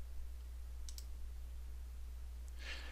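A mouse click on an OK button in Civil 3D software, a faint double click heard once against a quiet, steady hum, followed by a brief soft rustle.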